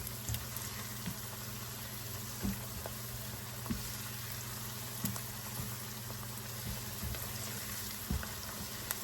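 Chicken in sauce frying in a pan for a butter chicken dish, a steady close sizzle and bubbling that continues evenly throughout with faint occasional pops and stirring clicks.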